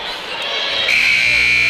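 Electronic buzzer sounding in a gym at a high school wrestling match, a loud sustained tone rising over crowd noise and a voice talking.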